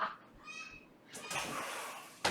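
A neighbours' parrot calls from its perch outdoors, a short harsh squawking cry followed by a louder raspy screech, heard at a distance over background noise.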